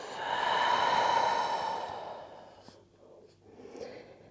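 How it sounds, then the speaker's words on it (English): A long, breathy exhale through the mouth during a yoga practice swells and fades over about two seconds, followed by quieter soft breaths. It is close and intimate, with no talking. "Take a deep inhale through the nose. Exhale through the mouth."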